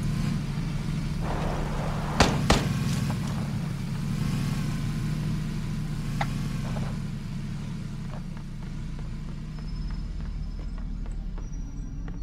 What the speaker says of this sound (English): There's a gun coming from... car coming from the northeast.